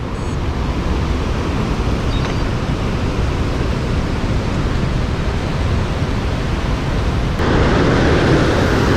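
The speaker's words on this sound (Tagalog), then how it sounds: "Grabe, lakas ng pakawala ng tubig," Released water roars steadily from Condadong Dam along a new road linking Arayat and Magalang in Pampanga, a loud, continuous broadband rush that swells slightly near the end.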